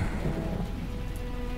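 Heavy rain pours steadily as a radio-drama sound effect, a dense unbroken hiss with a low rumble underneath that may be thunder. No voices are heard.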